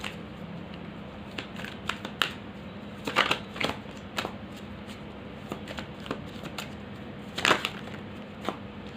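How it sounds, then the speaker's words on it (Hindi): Tarot cards are shuffled and drawn by hand at a close distance, making quick rustling riffles and soft slaps in irregular bursts over a quiet room background. "एक कार्ड और देख लेते हैं।"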